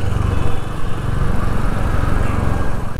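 Four Royal Enfield Hunter 350 motorcycles pull away together, their engines a loud, steady, close-up drone that holds its level throughout.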